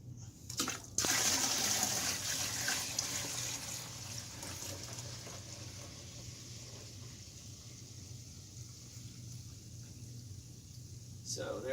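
Liquid pouring into a 6-gallon fermenter for homemade wine, a continuous rushing, splashing fill heard close by that starts abruptly and runs steadily, with faint talk beneath.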